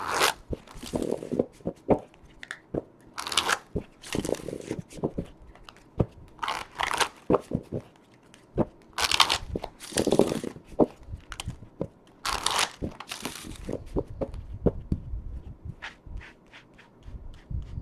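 Tarot cards being shuffled in repeated papery riffling bursts, close and fairly loud, with soft taps and rustles between them and no talking.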